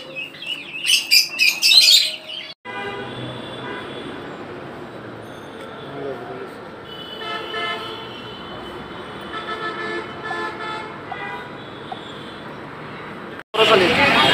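Paired mynas call at a Tongi bird market, their repeated chirps and whistles layered over steady crowd chatter and traffic hum, with a louder burst of calls at the start and again at the very end.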